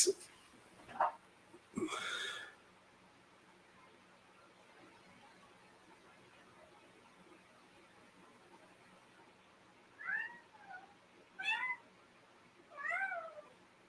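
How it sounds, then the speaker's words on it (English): A domestic cat meows several times, a couple of short calls early and a cluster of three clearer meows near the end, fairly close in a quiet indoor room with a few soft knocks. "Cat's right there. He just said goodbye."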